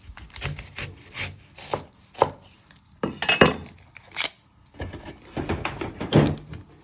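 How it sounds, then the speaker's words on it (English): A knife chops an onion on a wooden board for chicken tagine, making several sharp, separate thuds at irregular intervals. The cuts are close and clear, with no other sound. "You first want to chop your end off."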